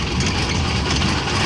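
A tractor engine runs in a farm field with a steady, loud, low rumble throughout and no talking.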